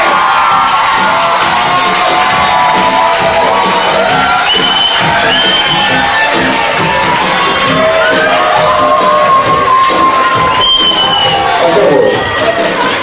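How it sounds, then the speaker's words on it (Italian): A large crowd at a fashion show cheers and shouts continuously, with whoops and high excited voices rising over a dense roar of clapping and noise. "Applausi, grazie!"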